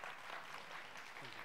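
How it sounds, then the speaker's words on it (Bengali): Steady applause rises from the crowd at a TV channel's anniversary cultural awards show, a faint, even patter of many hands that continues without pause and with no voices. "জোরে হাততালি হবে।"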